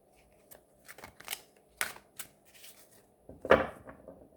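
Large tarot cards being shuffled by hand, with a few scattered riffs and soft slaps of card stock and one louder flurry near the end, close and alone in a quiet room.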